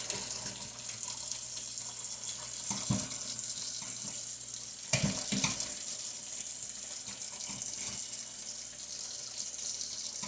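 Water runs steadily from a kitchen tap into a sink, with a couple of brief clatters partway through and no talking.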